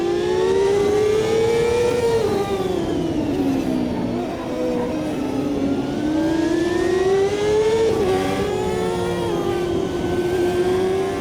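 IndyCar race car engines in the Automobilista 2 racing game scream loudly and continuously, the pitch rising through each gear and dropping sharply at every shift, with no talk over them.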